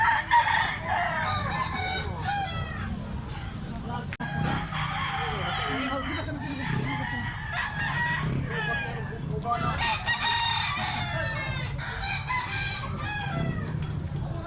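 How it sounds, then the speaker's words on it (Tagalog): Several roosters crow repeatedly, loud and close, over a dense background of clucking fowl and faint voices. "Wapo big manok si Busing oh"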